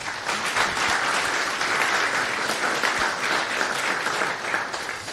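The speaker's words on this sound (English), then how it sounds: "So a round of applause, and let's start." Dense, steady applause from an audience at a technology conference talk, many hands clapping at once for about five seconds at even loudness, with no speech over it.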